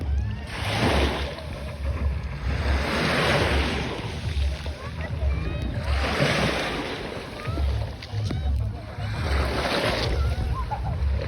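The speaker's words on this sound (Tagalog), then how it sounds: "yung tunog ng dagat" Ocean waves break and wash ashore in slow repeating surges every few seconds, with a steady wind rumble underneath and no talking.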